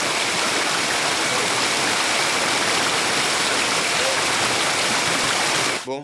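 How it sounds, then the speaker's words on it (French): Flooded underground river swollen by torrential rain rushes through a limestone cave, a loud, continuous roar that cuts off abruptly near the end. "Avec les pluies torrentielles que nous avons subies, la rivière est en crue."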